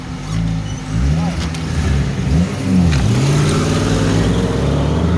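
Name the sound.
turbocharged Niva car accelerating in race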